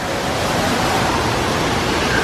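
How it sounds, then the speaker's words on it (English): Huge three-story indoor waterfall at the Dallas World Aquarium, a loud, steady rushing roar of falling water that fills the space without a break, no voices. "And this huge waterfall."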